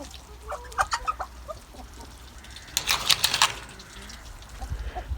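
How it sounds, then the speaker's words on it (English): Ducks and chickens feed together, with scattered quacks and clucks, a louder cluster of duck calls midway, and soft rustling and splashing underneath, all fairly quiet and close. "ducks make the funniest noise"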